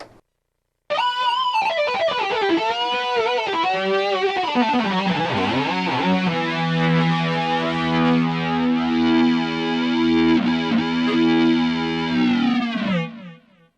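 A sustained electronic synthesizer note, bright and buzzy with rich harmonics, bending and shifting as a higher octave layer swells in, then cutting off.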